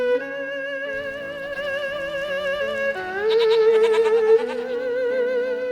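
Cashmere goats bleat in a wavering, harmonic cry that shifts pitch midway and grows louder, sustained and close with no talking.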